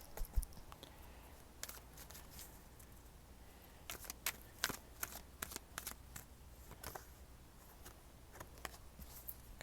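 Tarot cards shuffled by hand in quick, uneven riffling bursts with sharp papery snaps and taps as single cards are pulled, close and fairly quiet, with no talking.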